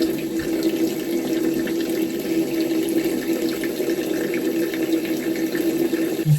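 Paintbrushes rinsed under a running tap, with a steady, continuous rush of water from start to finish and no talking.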